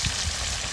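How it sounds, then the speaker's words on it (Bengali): Broiler chicken meat fries in hot oil for a roast, a close, steady crackling sizzle that lasts only a moment, with no talking. "মাংসটা এখন ভালোভাবে ভেজে নিব।"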